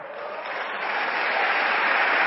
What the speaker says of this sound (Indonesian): Ya Allah, yang tepuk tangannya keras